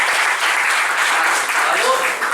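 An audience at a motivational talk breaks into applause, a short, steady, loud burst of many hands clapping at close range, with speech-like noise blended in.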